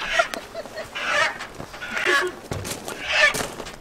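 Chickens cluck and squawk excitedly while being caught and handled, near and loud, with scuffling throughout and brief voices mixed in.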